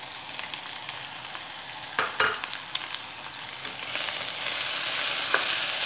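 Chicken chilli with yellow, red and green peppers, onion, green onion and chilli stir-fried on high flame, a continuous sizzle punctuated by a few spatula clanks, swelling into a louder, fuller hiss toward the end.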